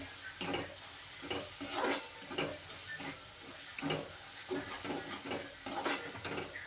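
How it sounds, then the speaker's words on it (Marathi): Fenugreek leaves and ridge gourd are stirred in a pan for a dry mixed vegetable dish, soft rhythmic scraping strokes at a steady pace with a faint sizzle underneath, close and quiet, no talk. "मिक्स करूया व्यवस्थित"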